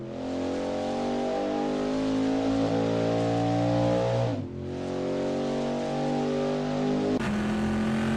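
A race car engine in a Le Mans racing video game, droning loud and steady at high revs, dipping briefly as it lifts off and then shifting to a new gear near the end, with no voices.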